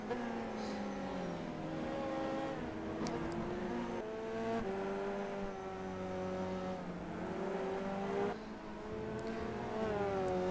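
A race car engine in the rFactor 2 sim at Croft, droning steadily up and down through the gears, with clear rising revs and gear-change drops and no other traffic nearby.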